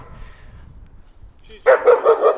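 A dog outdoors barks in a quick series of four or five loud, close barks after a quiet stretch of faint background noise.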